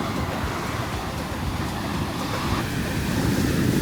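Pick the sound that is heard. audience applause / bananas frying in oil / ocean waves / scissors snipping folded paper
ocean waves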